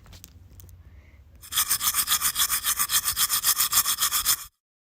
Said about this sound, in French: Bon, moi, je me brosse les dents.